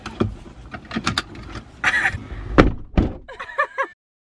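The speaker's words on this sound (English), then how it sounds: "With what hand am I supposed to pull the handle? Still doesn't open the door." A door handle is pulled and rattled several times without the door opening, giving a string of close, sharp clunks and clatters with short gaps between them.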